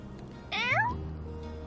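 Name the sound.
cat meowing in the video game My Time at Sandrock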